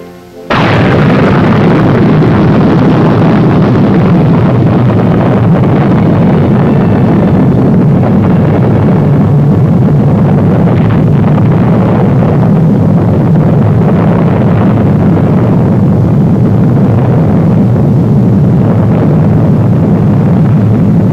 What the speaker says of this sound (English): the H-bomb, was detonated at Aniwetok